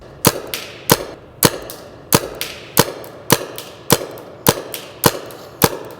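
Frozen paintballs fired one after another from a paintball gun outdoors, eleven sharp, loud shots at a steady rhythm about every half second, each followed by a short echo, with no talking.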